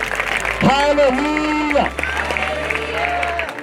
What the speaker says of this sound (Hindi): यीशु मसीह की जोर से तालियां बजाएंगे, जोर से जोर से जोर से जोर से